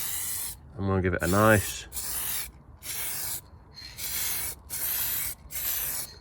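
A rattle can sprays paint onto the repaired sill of a Citroen C1 in a series of short hissing bursts with brief pauses between, close up, while someone briefly speaks over the first burst.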